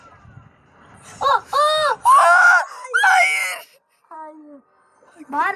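Someone screams loudly in several sharp, high bursts during a Brawl Stars gaming session, close to the microphone, with short pauses and a little talk between the cries.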